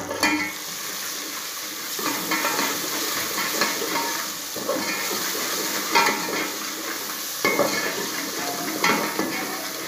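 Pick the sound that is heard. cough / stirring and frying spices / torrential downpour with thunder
stirring and frying spices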